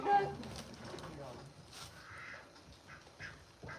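A ranch duck quacks in a few short nasal calls amid outdoor ambience, with people talking intermittently nearby.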